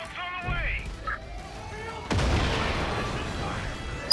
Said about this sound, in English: Throwing grenades down, so gonna be some explosions.